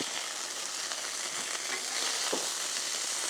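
Burger patty sizzles steadily on a buttered griddle right after being flipped, a dense continuous hiss with a faint scrape partway through, close and with no talking.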